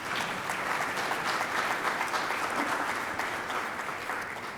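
An audience at a civil rights forum applauds the forum sponsors and partners, a continuous dense patter of many hands clapping, steady and full for several seconds before easing slightly.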